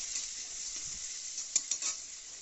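Finely chopped onion fries in oil with cinnamon for chingri malaikari, a bright steady sizzle up close, with a few quick spatula scrapes and clinks against the pan near the end.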